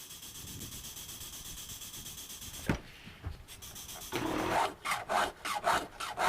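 A chainsaw chain is sharpened with a hand file, giving close rasping strokes, first a steady scrape and then a quick run of short rhythmic passes.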